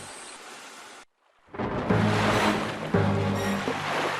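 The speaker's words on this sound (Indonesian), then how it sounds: "angin bertiup kencang dan menggoyangkan sebagian badan kapal" Broadband rushing sound at sea fits strong wind and waves rocking a ship: a brief hiss, a moment of near-silence, then a swelling roar of wind and water.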